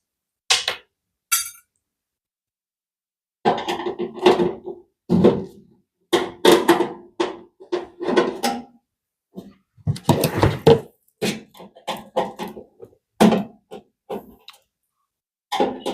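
Many short screws come out of a Pensonic oven toaster's metal casing, heard as close, irregular clicks, clatters and knocks from the screwdriver and the metal housing, with scattered bursts separated by brief silences.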